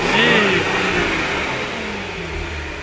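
A supercharged V6 in a B8.5 Audi S5 fitted with an Injen cold air intake revs loudly up close, a rising engine roar with a supercharger whine layered on top, then slowly easing off.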